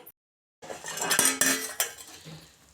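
A metal pan lid clanks and scrapes shut over a pot of chow chow bath, a close, bright clatter of metal on cookware lasting about two seconds before fading.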